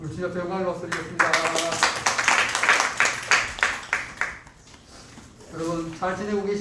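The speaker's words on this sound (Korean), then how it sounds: "우리 주님 앞에 영광을 박수드리겠습니다." Church congregation clapping together during a worship service, a dense burst of applause lasting several seconds and fading out, with a voice speaking before and after it.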